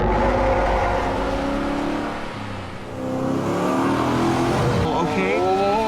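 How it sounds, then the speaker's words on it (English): A car engine roars loudly and accelerates away, rising and falling in pitch as it speeds off, with voices talking over it. "Hopper's Blazer speeds through the open lab gate."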